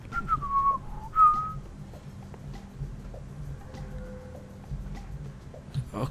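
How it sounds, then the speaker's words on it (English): A person whistles a few short, wavering tones, the first two notes loud and close, then quieter trailing pitches over a low hum, no talking. "Learning to whistle. I know how to whistle."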